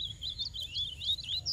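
Papa-capim seedeater birds calling in scrubby brush with Brachiaria grass gone to seed, a run of quick, thin high chirps and tweets close by, fairly faint, with no speech.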